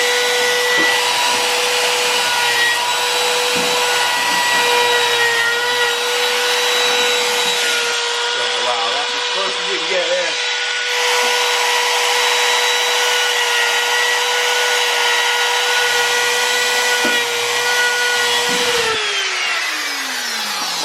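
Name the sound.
router trimming ebony on a Carvin bass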